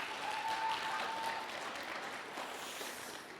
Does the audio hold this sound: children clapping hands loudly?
yes